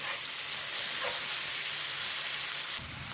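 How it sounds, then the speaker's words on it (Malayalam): Onions and two medium tomatoes sautéing in a pan for a ladies finger stir-fry, a steady close hiss and sizzle that holds evenly throughout, then drops slightly near the end. "വീണ്ടും വഴറ്റിയെടുക്കാം."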